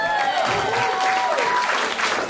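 A comedy show audience claps and cheers for a couple of seconds, a dense, even wash of applause with a few whoops rising above it.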